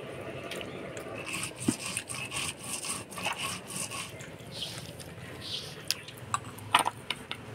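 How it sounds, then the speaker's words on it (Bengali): Onion, garlic and green chili are coarsely ground for a dried-fish curry, giving steady rough scraping and rubbing strokes with a few sharper knocks, fairly close and continuous, with no speech. "এবার আমি শুটকি মাছের চচ্চড়ির জন্য পেঁয়াজ, রসুন আর কাঁচা লঙ্কা আধা বাটা করে বাইটে নিব"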